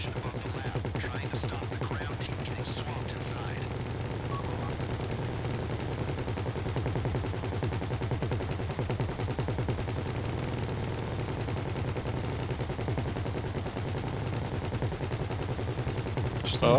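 Sustained automatic gunfire in GTA V Online during a heist, rattling continuously under a steady engine-like drone, with a voice briefly heard.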